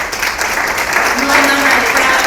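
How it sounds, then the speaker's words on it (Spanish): An audience at a closing session of a migration conference claps for the organizing team, a dense steady applause that swells slightly toward the end, with voices mixed in. "Un aplauso por favor al equipo"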